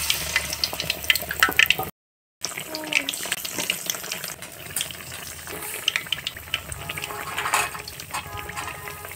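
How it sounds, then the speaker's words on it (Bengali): Jackfruit chops coated in batter sizzle in hot oil, a steady crackling fry with bursts of bubbling, close and moderately loud, broken by a brief silent gap. "দেখছেন গরম তেলে কাঁঠালের চপগুলি কি ভাজা হচ্ছে।"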